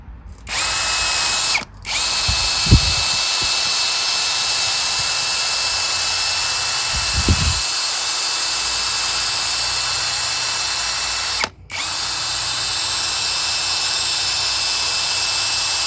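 A wire wheel spins steadily against grimy cables from a 1978 Honda CB400 off-road motorcycle, a loud continuous whirring whine that cuts out briefly near the start and once more later, with a few scraping bursts along the way.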